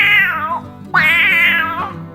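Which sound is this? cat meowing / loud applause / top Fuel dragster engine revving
cat meowing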